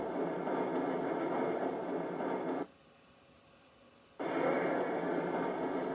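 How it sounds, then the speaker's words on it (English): Steady rumbling hum of a tram-style train moving through the Black Mesa facility in the 1998 game Half-Life, loud and continuous, dropping briefly to a quiet lull in the middle before the full rolling noise returns. "This train is inbound from Level 3 dormitories to Sector C test labs and control facilities"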